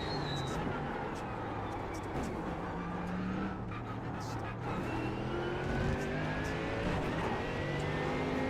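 GT3 race car in iRacing at Suzuka, the engine roaring and climbing through rising revs with repeated gear shifts, loud and continuous, with a faint voice underneath.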